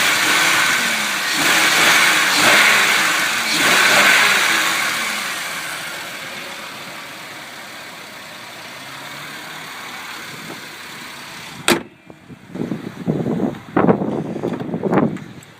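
A 2004 Buick Rendezvous CXL with a 3.4 liter V6 runs outdoors, steady engine and wind noise heard from a distance, then a sharp click followed by a few louder, closer bursts near the end.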